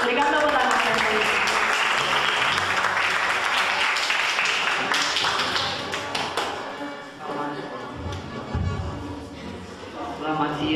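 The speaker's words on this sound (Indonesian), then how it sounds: "Berikan tepuk tangan yang meriah." School students applaud at a junior high student council election speech and debate in Malang, clapping loud and lively at first, then fading out, with voices and a few thumps underneath.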